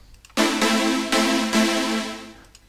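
Dry synth chords from a Sylenth1 plugin with effects switched off, sustained pad-like stabs re-struck in steady succession, bright and full, heard alone without talk.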